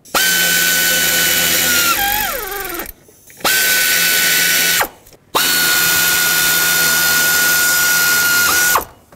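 A pneumatic air ratchet runs in three loud, close bursts while snugging the alternator bolts on a 2001-2007 Volvo V70. A steady high whine drops in pitch as each bolt tightens, with short pauses between runs.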